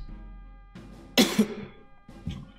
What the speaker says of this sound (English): That was a burp cough, excuse me.